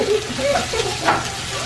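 Vegetables sizzling in a hot frying pan, a steady crackling hiss with faint clinks from a utensil.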